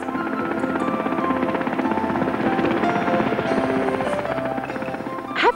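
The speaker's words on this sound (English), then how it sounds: "Helicopters use their spinning blades to hover in the air" A helicopter hovers with its rotor blades spinning, giving a continuous, fairly close thrumming beat at a steady rhythm that lasts the whole time, with no speech.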